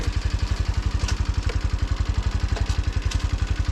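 A lowered Kawasaki KLX 230 dirt bike fitted with a Rekluse auto clutch runs in first gear, a close, steady low thumping engine pulse at an even rapid rhythm, alone without talk.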